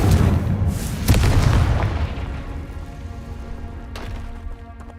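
A Confringo fire spell blast in the Hogwarts Legacy video game lands as a loud, deep boom at the start, followed by a crackling, rumbling decay and a sharp secondary crack near the end.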